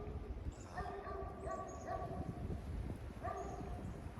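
Several dogs bark and yip outdoors in a snowy setting, set off by planes overhead; short repeated barks rise in clusters over a steady low rumble.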